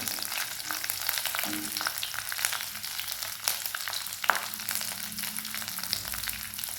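Chopped green chilies fry in hot oil with a continuous close sizzle and occasional stirring, and no one speaks.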